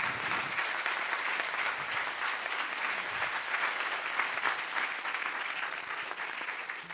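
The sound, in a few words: audience applause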